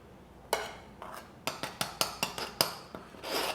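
Flour being scooped into a measuring cup, a series of crisp scraping and tapping strokes in a quick irregular rhythm, close and fairly quiet, with no talking.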